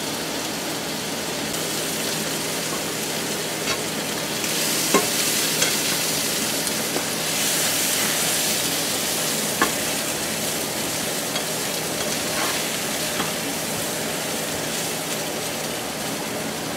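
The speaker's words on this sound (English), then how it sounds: "So we're gonna watch sausage brown." Smoked sausage browns in a skillet with a continuous, rain-like sizzle that stays steady and fairly loud, broken by a few small pops and by stirring or scraping. No voices.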